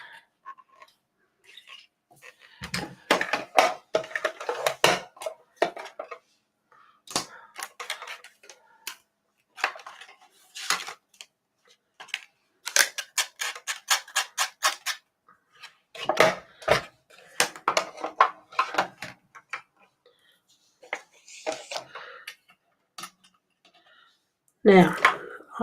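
Craft dies for a blossom design being run through a manual die-cutting machine, giving repeated ratcheting clicks and rolling rattles in bursts across the clip, close and moderately loud, with a few pauses.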